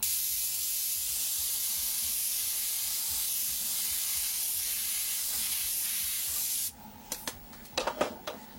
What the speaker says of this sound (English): connect our black, and just spray that in nice and dark